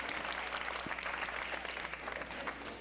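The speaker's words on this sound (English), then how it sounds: "so let's give a big round of applause for Dave for putting together the rats for u" An audience at a Frosty Follies stage show applauds steadily for about three seconds, a dense wash of many hands clapping at moderate loudness with no voices on top.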